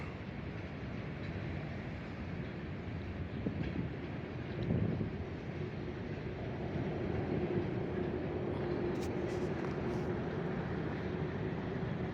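A long Union Railroad train rumbles past steadily with a low droning roar and clattering wheels, wind buffeting the microphone, and a few faint metallic squeals later on.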